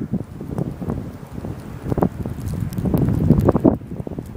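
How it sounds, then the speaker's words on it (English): Strong blizzard wind gusting and buffeting the microphone at night in Sanford, Maine, blowing and drifting snow across a sidewalk; loud, continuous roaring rumble with surging gusts. "The wind is just blowing so hard it's cleaning off part of the sidewalk here."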